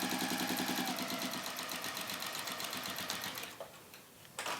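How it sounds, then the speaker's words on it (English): A sewing machine stitches around the top of a fabric drawstring bag with a fast, even mechanical whirr that slows and pauses briefly before starting again at the end. "So we're just sewing around the top."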